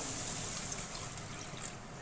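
Water is poured into a mustard fish curry to make the gravy, heard as a continuous close trickling pour over a faint sizzle, running steadily for about two seconds with no talking.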